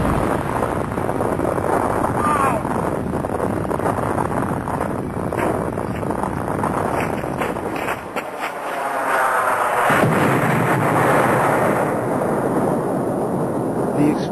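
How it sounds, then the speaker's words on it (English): A massive chemical factory explosion at the Pepcon plant, the fourth and largest blast, heard as a sustained loud broadband roar and rumble with a brief dip before the noise surges back, buffeted by heavy wind on the microphone. "the fourth and largest explosion erupts from the factory."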